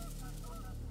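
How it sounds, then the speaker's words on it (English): Geese honk in a steady chorus during a goose hunt, with overlapping calls over a low continuous hum, fairly faint and without speech. "finally these geese came together. They're all in here."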